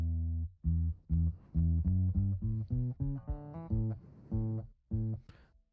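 Dry electric guitar played without its MIDI octave-down effect, a clear sequence of plucked notes with bright harmonics, each note ringing briefly before the next, close and alone with no talking.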